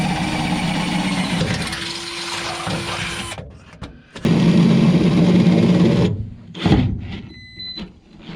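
A power drill bores up from the underside through a bolt hole during a Haulmaster installation, a steady whining motor drone in bursts of several seconds with brief pauses between, close and loud.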